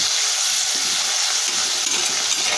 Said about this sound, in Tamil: புதினா இலை நம்ம வந்துட்டு எவ்வளோ அளவுக்கு நம்ம வறுக்கிறோமோ